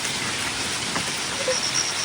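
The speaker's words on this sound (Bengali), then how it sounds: "আমার বৃষ্টি এসে গেছে," Steady rain falls in an outdoor residential setting, a loud, even hiss of drops on surfaces that continues without break and without voices.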